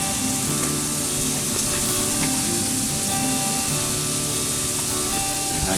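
Big burgers starting to cook over charcoal on an offset grill, a loud, steady close-up sizzle and hiss that holds evenly throughout without pause.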